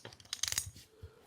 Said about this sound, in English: If you want, the sound of poker chips, really nice sound and feel to them.